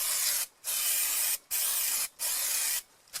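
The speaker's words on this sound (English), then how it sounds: "So just use some brake cleaner" Brake cleaner sprayed onto a new Peugeot 206 brake rotor in four loud, close hissing bursts separated by short gaps.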